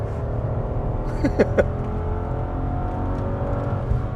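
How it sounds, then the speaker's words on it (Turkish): A Mercedes-Benz E 500 W211 engine hums and revs steadily from inside the car while driving, a continuous low drone with a few brief higher tonal bursts and no talk. "ben özellikle susuyorum ki arkadaşlar motoru dinleyin diye"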